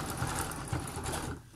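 A sewing machine runs steadily, stitching a folded seam on fabric for an upcycled grocery shopping bag, a close, continuous mechanical whir with a rhythmic needle pulse that slows and stops near the end.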